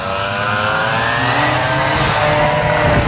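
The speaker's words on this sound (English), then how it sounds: "Here comes Neil and Mike with the twin-engined wing." A twin-engined wing, a radio-controlled model plane at a Tokoroa flying event, drones loudly and steadily with a constant high engine whine throughout, close by and without talk.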